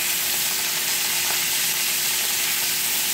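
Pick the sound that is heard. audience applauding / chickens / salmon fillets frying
salmon fillets frying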